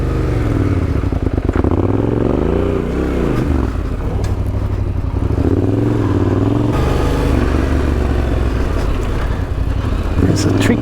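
An adventure motorcycle pulls away off-road with a loud engine that rises and dips in pitch as it grabs traction, close and continuous. Someone speaks over the engine.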